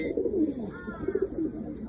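Soft, low pigeon cooing in a steady murmur, close by, with a faint higher chirp drifting in partway through.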